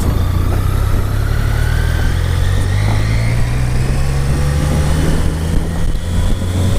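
A BMW K75S motorcycle's engine hums steadily while riding at around 25 mph, a loud, continuous low drone with smooth, even tone and no voices over it.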